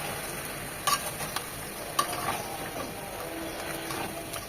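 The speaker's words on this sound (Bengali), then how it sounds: "টমেটো সসটা দিয়েও 2 থেকে 3 মিনিট আর একটু কষিয়ে নেব" Chicken with tomato sauce sautés in a pan while it is stirred, producing a soft, steady sizzle with a few sharp scraping clicks from the utensil.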